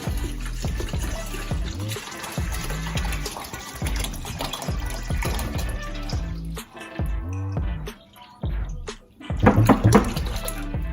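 Water pours steadily and splashes into a pot, a continuous gurgling rush with a louder, sloshing surge near the end.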